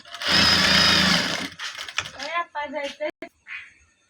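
A sewing machine stitches elastic onto a salwar in one loud, steady run lasting over a second, then someone speaks once the machine stops.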